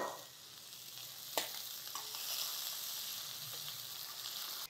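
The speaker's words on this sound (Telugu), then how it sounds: "ఒక ఉల్లిపాయ సన్నగా ముక్కలు తరిగేమో అవి వేసేస్తున్నాను." Finely chopped onion frying in a pan for masala khichdi: a steady, soft sizzle throughout with a few small pops and stirring scrapes, heard close with no voices.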